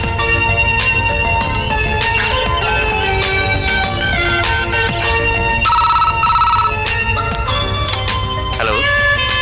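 A telephone rings loudly with a bright, repeating electronic ringtone melody that continues without pause, with no voices heard.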